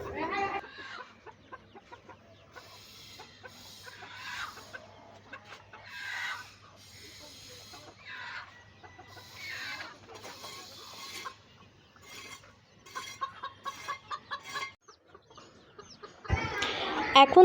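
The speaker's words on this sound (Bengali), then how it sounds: "আজকে একটু ভালো মতো রোদ উঠছে আর আমরা মুরগিগুলোকে বের করে দিলাম" Hens clucking in a farmyard, let out of their coop on a sunny day after heavy rain, with a rooster among them. The calls come close and repeat in scattered bursts for most of the stretch, over a low steady hum, ending on a louder burst.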